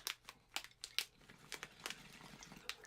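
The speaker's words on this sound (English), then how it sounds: "You guys can hear my fucking pumpkin packaging crinkling around." Close, crisp crinkling of plastic pumpkin snack packaging in quick irregular bursts, quiet overall, with no talking.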